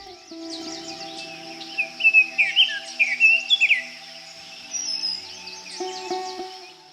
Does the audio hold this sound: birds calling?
yes